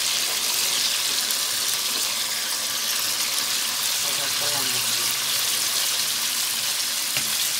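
Cauliflower stir-frying with pork and shrimp in a pan gives a steady, close sizzle with faint clinks of utensils running throughout.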